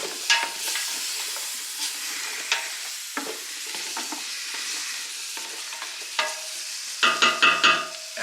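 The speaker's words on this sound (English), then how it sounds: "we're going to cook those onions, sweat those onions down a bit" Onions sweat down in a pot for chili, a constant close sizzle with scattered scraping and clinking from stirring, growing busier near the end; no voices.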